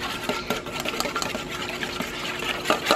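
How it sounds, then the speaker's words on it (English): Eggs being whisked with butter and Parmesan in a bowl, a quick, steady rattling beat of the whisk up close, with no talking. "Whisk them together with the butter and the Parmesan"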